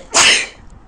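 A single loud, close human sneeze bursts out sharply from someone who is sick, then fades quickly into quiet.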